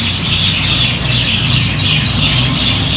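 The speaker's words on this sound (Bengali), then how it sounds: "পাখিরা কি ওই চিল্লাইতেছে?" Birds squawking loudly and continuously, as if quarrelling, a dense harsh chatter of calls filling the whole stretch close by.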